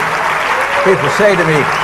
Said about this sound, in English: I know you're trying to applaud